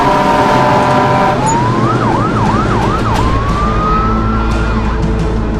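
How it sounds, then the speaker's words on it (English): Emergency vehicle sirens in the Melon Playground video game, a steady tone rising into repeated wailing sweeps over constant loud background rumble, continuous and prominent. "emergency vehicles are responding"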